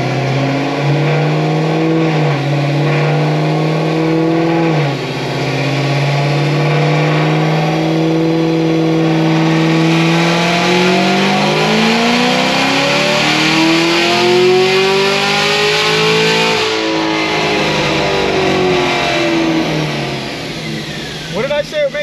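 A Cadillac CTS-V engine revs up through a cold dyno pull on a shop dynamometer. Its pitch climbs steadily and loudly over about twenty seconds, then drops off near the end.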